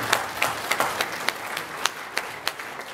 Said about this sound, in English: let's give Curtis a round of applause for that